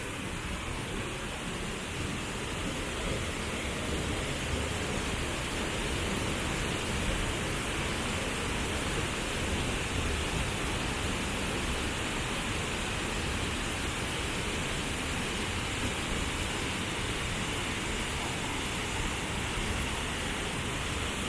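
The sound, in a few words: Mantayupan waterfall in Cebu, Philippines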